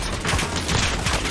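Sustained suppressing gunfire in a squad-based video game, a dense rapid burst of shots running continuously and loudly with no pauses.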